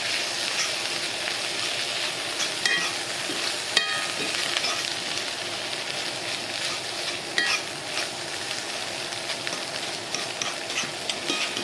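Cooked mackerel is mashed into small pieces in a hot pan, making a continuous scraping, crackling sizzle with occasional sharper knocks of the utensil, close by and without speech.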